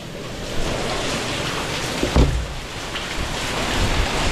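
Strong gusts of wind roar steadily around a house being flooded with water, a broad continuous rushing noise with a few louder swells and no talking.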